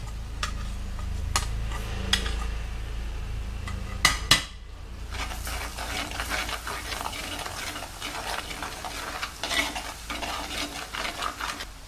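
A spoon stirs Malabar-style mussel pickle with curry leaves in a pan, scraping steadily over a soft sizzle, with a couple of sharp metallic clanks along the way.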